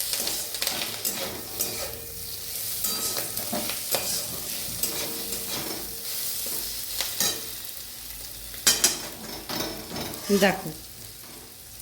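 Eggplant and onion sizzle in fish oil with green chili, a steady close frying hiss broken by stirring scrapes and clinks of a utensil against the pan, with a brief spoken word early on.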